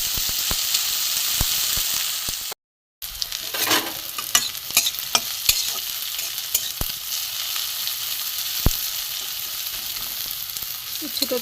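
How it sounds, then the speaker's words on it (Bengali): Thin-sliced bitter gourd fries in hot oil in a pan, giving a steady, close sizzle with stirring clicks and scrapes throughout, broken once by a brief gap of silence. "প্রথমে উচ্ছেগুলো আমি ভেজে নেব।"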